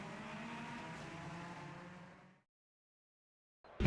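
Honda Civic touring car engine from the Copa Petrobras de Marcas Brazilian series, raced at Velopark in a sim game, a steady loud drone that fades to silence before an abrupt loud burst returns.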